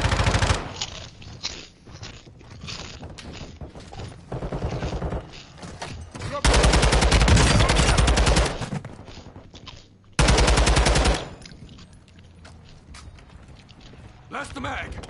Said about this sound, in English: Shoots left and right of my opponents there.